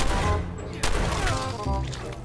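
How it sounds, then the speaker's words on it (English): Shotgun blasts from the video game Fallout, several heavy booming shots ringing out at close range over a dense, busy game soundscape, with a faint voice underneath. "I do love my shotgun."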